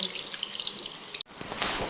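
Thin stream of tap water running into a small wash basin, close and steady, with a brief cut and a splashier burst toward the end.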